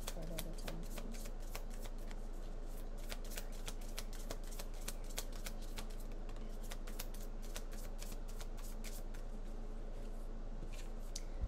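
Tarot cards are shuffled and handled continuously, a close, dense run of riffling flicks and snaps that stays quiet and even from start to finish.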